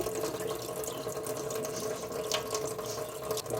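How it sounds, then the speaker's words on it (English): Water drains from the drain plug of a collapsible washing machine beside a sink, a steady close splashing trickle that runs on without pause and without talk. "All right, it did take a while to drain"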